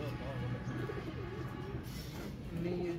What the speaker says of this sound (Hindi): कितना प्यारे प्यारे इन कबूतर है यहाँ पे